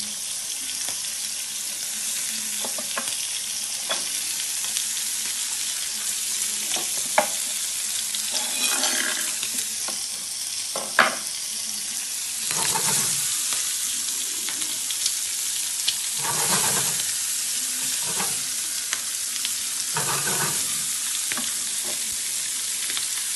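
Scored calamari dropped into a hot pan for a seafood risotto, a steady close sizzle and frying hiss with intermittent stirring scrapes and spoon clinks throughout.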